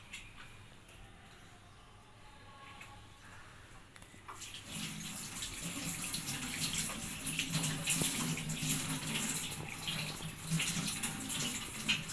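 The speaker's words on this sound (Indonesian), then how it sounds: "selanjutnya kita lakukan cuci tangan terlebih dahulu menggunakan air" Hands are washed under running tap water during a health examination. A faint rustle at first gives way to a steady close splash and gush of flowing water, with no speech.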